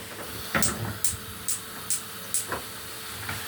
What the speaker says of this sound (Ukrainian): Обсмажуємо, дівчатка, помішуючи, щоб нам те м'яско розділилося